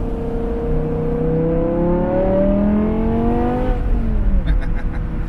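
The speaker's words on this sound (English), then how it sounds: "There's that V10 sound." A high-pitched V10 engine in a manual E60 BMW M5 revs up steadily, its tone climbing for several seconds, then drops off as the revs fall away.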